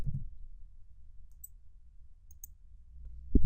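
A computer mouse gives a single soft click at the start and another right at the end, with near silence and faint low hum between them.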